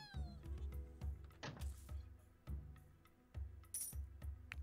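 Cat meows from the video game Ratropolis, several short mewing calls in a row over a game's looping music and scattered clicks and chimes, with no talk.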